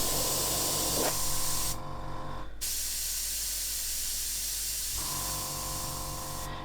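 Airbrush hissing as it test-sprays lacquer paint: a steady close spray that briefly drops away near the middle, then resumes at full strength.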